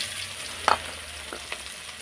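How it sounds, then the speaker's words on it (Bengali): Chopped onions frying in a pan of mustard oil tempered with nigella seeds, a steady soft sizzle broken by a brief metallic clink and a few light stirring knocks, with no talking. "আর একটু সর্ষের তেল একটু কালো জিরে ফোড়ন দেব দেব পেঁয়াজ কুচিগুলো"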